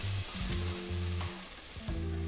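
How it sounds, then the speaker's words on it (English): Chopped onions hit avocado oil in a pan for vegan taquito filling, giving a loud, continuous close-up sizzle with a low steady hum beneath it. "we're gonna drop these onions in and cook them until they're translucent"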